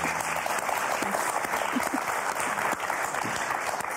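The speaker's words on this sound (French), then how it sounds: "Ah, vous pouvez applaudir, attendez." Sustained audience applause on the TV game show Motus, a dense studio crowd clapping steadily and loudly throughout.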